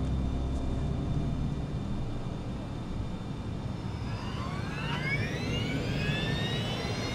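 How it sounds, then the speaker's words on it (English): A Germanwings airliner's engines run at takeoff thrust, a steady loud broadband roar with a rising whine that climbs in pitch over the last few seconds. "Takeoff thrust."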